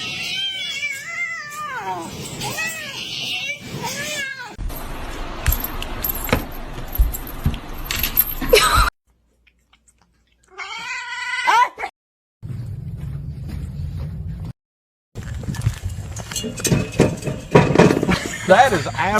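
Cat meowing repeatedly in short rising calls, close and fairly loud, mixed with jangling clatter and bursts of noise, with brief silent gaps between segments.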